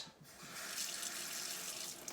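Water from a tap runs steadily through a water machine attached by a diverter, a continuous close, loud rushing flow with no voices.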